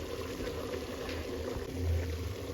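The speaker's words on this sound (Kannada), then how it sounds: "ಚಿಕನ್ ಇದು ನೀರು ಬಿಟ್ಕೊಂಡಿದೆ. ನೀರು ಬಿಟ್ಕೊಂಡು ಚೆನ್ನಾಗಿ ಅದರಲ್ಲೇ ಬೇಯ್ತಾ ಇದೆ." Chicken simmering in its own released water in a pot, a soft steady bubbling with a low burble swelling slightly near the end, quiet and without talk.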